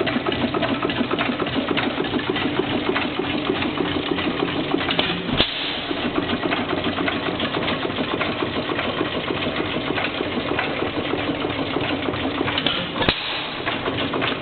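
A 6 hp Racine Sta-Rite gas engine, with a cracked mixer, runs steadily and loudly nearby, a continuous mechanical chugging with a fast even beat and one brief dip around midway.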